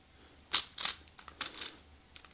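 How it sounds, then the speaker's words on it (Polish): A few sharp metallic clicks and scrapes close by as a key slides into an Opnus Memolis lock, in short bursts with quiet gaps between. "jak włożycie do zamka ten żółty klucz, to on tu wypycha takie dwa zęby wyskakują"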